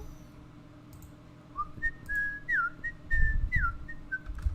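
A person whistles a short melodic phrase of several sliding and held notes, close and clear over a quiet low hum, with no talking.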